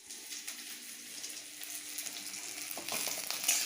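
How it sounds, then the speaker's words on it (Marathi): Onion frying with green chilies in a pan, a quiet steady sizzle that grows a little louder toward the end, with some faint clatter, no talk. "आता पहा, त्या मिरचीमध्ये हा कांदा चांगला परतून घ्यायचा."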